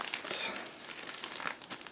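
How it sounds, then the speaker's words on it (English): Close, continuous crinkling and rustling of a thin plastic bag being opened while unpacking a 1/48 scale Eduard Bf 109 model kit, with sharper crackles scattered through it and no voices. "Next, I'm opening another plastic bag."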